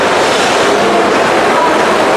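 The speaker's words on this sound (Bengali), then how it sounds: "এই হচ্ছে আমাদের অতি পরিচিত হাওড়া স্টেশন।" Busy ambience at Howrah railway station in the early morning, a dense, loud, continuous rumble and hiss of crowd and rail noise with no distinct events standing out.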